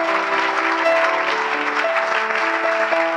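A crowd applauds and cheers for the king at a conference gathering, a dense, continuous wash of clapping with voices woven through, steady and loud across the whole stretch.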